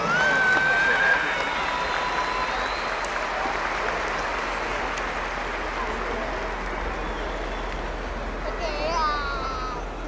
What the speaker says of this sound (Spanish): Que vengan esas palmas, por favor,